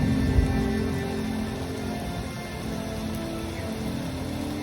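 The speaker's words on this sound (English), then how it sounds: "The hailstorm is rolling in." A hailstorm rolls in during a St. Louis tornado outbreak, a constant dense patter and rumble with a sharp knock near the start, loud and unbroken.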